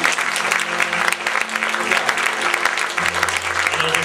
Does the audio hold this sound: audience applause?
yes